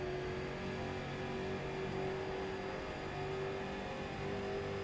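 A race car in the iRacing sim game taking the final corner slowly, its engine holding a steady, continuous drone with no talk over it.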